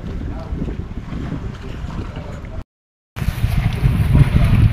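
A large boat off Burias Island is heard from near the water: a loud, continuous engine drone mixed with wind buffeting the microphone, broken by a brief silent gap and then resuming stronger.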